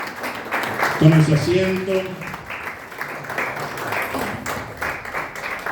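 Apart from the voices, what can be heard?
audience applause in church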